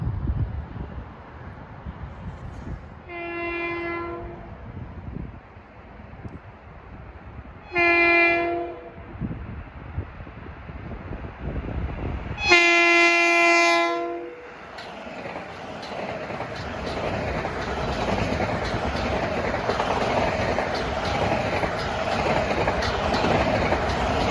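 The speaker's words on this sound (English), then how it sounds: "Here comes train 1060, Penn Station of Brentwood." A Long Island Rail Road M7 electric commuter train passes Pinelawn station at speed, opening with three loud horn blasts followed by a growing roar of wheels and rushing cars that fills the rest of the scene, with no talking.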